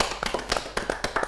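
A studio audience at a Kyrgyz game show claps in a short, sparse burst of applause, a handful of light, irregular hand claps at moderate distance.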